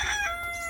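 A brief, loud, close rooster crow from a backyard flock of chickens, heard alone.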